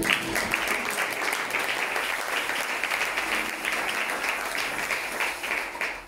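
A church congregation applauding, dense steady clapping from many hands filling the room at a loud, even level for several seconds, with faint voices mixed in.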